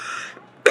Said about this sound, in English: Excuse me for the coughing.